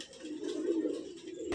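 Malwai pigeons cooing in a loft, a soft low throaty coo rolling continuously and close by, with faint background noise.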